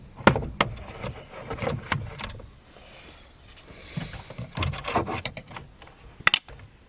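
Plastic clips popping and creaking as a 1999–2007 Skoda Fabia Mk1 rear door inner trim panel is prised away from the door, several sharp cracks and knocks spread irregularly, close and fairly loud.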